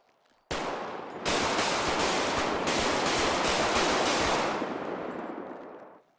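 Police academy trainees open fire together during a shooting drill in a GTA V roleplay game, a loud, sustained barrage of overlapping shots that starts abruptly, thickens after a second, and rattles on for about five seconds before stopping.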